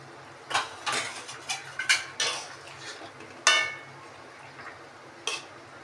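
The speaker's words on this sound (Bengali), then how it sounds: "এবার দুধটা দেবো।" Utensil clinks and scrapes against a cooking pot as boiled milk goes into Bengali shukto, a string of sharp metallic knocks and stirring taps at an uneven rhythm over a low background hum.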